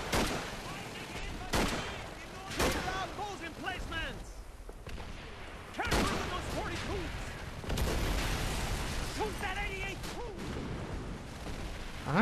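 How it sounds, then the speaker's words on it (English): Gunfire in the World War II shooter Call of Duty 3 is aimed at a tank, with sharp repeated shots and bursts over a busy battle soundscape while voices talk. "Stop shooting that tank!"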